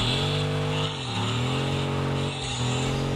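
A car engine in the mobile game Car Parking Multiplayer whines at high revs while drifting, the pitch dipping and climbing twice as the throttle lifts and returns, loud and continuous with no talk.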